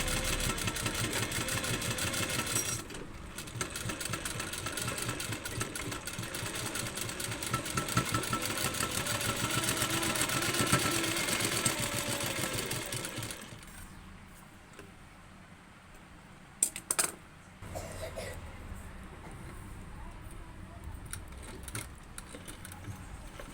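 Sewing machine top-stitching a plain blouse, a steady fast mechanical whirr for roughly the first half, then stopping, followed by quieter handling sounds and a couple of sharp clicks, with no speech.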